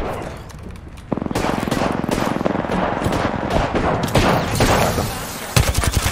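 Gunfire in the video game Apex Legends crackles in rapid automatic bursts, dense and loud, with short pauses between volleys and a sharp final burst, and no talking.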